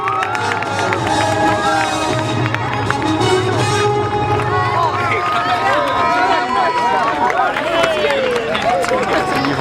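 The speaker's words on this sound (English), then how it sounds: "a nice round of applause for your United States Army Parachute Team, the Golden Knights" An air show crowd at Hillsboro in 2014 cheers and claps for the United States Army Parachute Team, the Golden Knights, with whoops and children's shouts rising in a loud, continuous hubbub.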